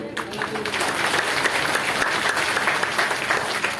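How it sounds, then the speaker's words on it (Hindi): Steady, dense applause from an audience at a Hindu Bhagwat Katha and Yagya in Rajgir, Bihar, sustained at an even level throughout. "भैया जोरदार ताली यहाँ की संपूर्ण पांडव पंडा समाज के लिए बजाइए।"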